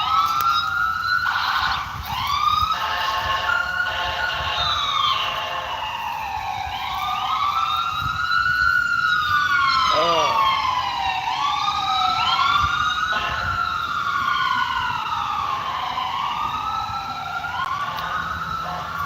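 Several EMS vehicles parked near a park across from a hospital sound sirens at once, overlapping wails and yelps sweeping up and down, loud and sustained throughout with no voices.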